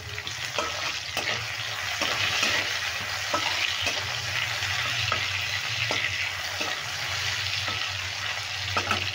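Masala and tomato sizzle and fry steadily in a pan over a medium flame, with a spoon stirring through it at a regular rhythm; the sound is close, continuous and moderately loud, and no one speaks.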